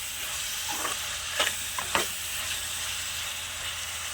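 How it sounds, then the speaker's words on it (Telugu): Broad beans tempering in hot oil for a village-style curry, a soft steady sizzle with a few brief stirring scrapes and clinks, fairly quiet and close, no talking. "బాగా రొంచేపు అలాగే నూనెలో బాగా మగ్గనివ్వాలండి"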